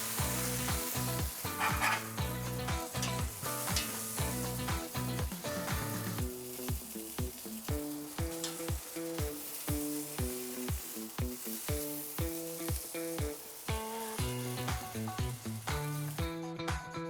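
Butter melting in a hot pan alongside tenderloin steak, crackling and sizzling steadily with rhythmic stirring or basting strokes, close and continuous.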